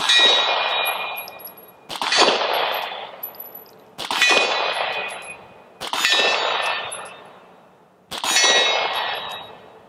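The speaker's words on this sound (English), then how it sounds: "I'm hitting quarter-sized inch steel at about 25 yards" Bullets strike a small steel target about 25 yards away, giving five loud, ringing metallic clangs spaced roughly two seconds apart, each decaying slowly into a bright resonant tail.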